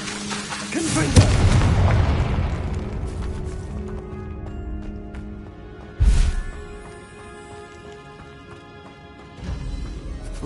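The Confringo spell explodes in a video game with a loud booming blast that decays slowly, followed by a second, shorter burst and a rising rumble at the end.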